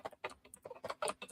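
Quick keystrokes on a keyboard as a web address is typed, a close, brisk run of about eight taps with no talking.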